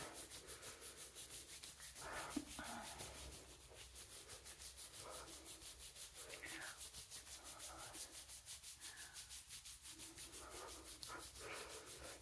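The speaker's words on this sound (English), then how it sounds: "let's just rub in this chest again" Bare hands rub vigorously over the upper chest during a massage, a steady close-up swishing friction that runs continuously with gentle rhythmic surges and no talking.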